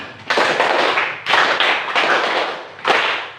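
A group clapping a counted rhythm pattern of threes repeated twice, sharp bursts of many hands striking together in distinct clusters, loud and close with short pauses between sets.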